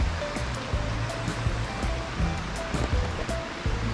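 A river flowing past a nature camp gives a steady, loud rushing wash of water with constant turbulent texture and no voices.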